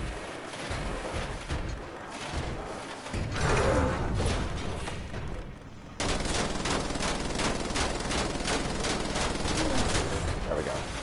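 Gunfire in the video game Wolfenstein: The Old Blood: rapid automatic bursts ring out loudly, turning into a sustained rhythmic machine-gun rattle for the second half, mixed with mechanical clatter.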